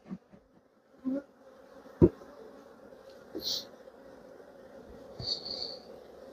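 Honeybee colony humming faintly around an open hive during an inspection, a steady low buzz with occasional closer bees passing, plus a few soft knocks and handling noises.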